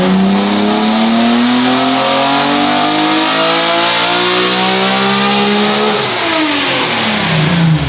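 A Nissan Skyline's naturally aspirated dual-overhead-cam six-cylinder engine with individual throttle bodies revs hard and steadily, its pitch climbing and dropping in smooth sweeps, loud and close with a raspy mechanical tone.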